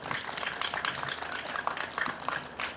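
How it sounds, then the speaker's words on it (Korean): Outdoor audience at a candlelight vigil for the Itaewon crowd-crush victims in front of Seoul City Hall applauding, a steady dense patter of many hands clapping at moderate distance throughout, without a break. "큰 용기 내어서 이 자리에 함께 해주셨을 누리님께 다시 한번 큰 박수 부탁드립니다."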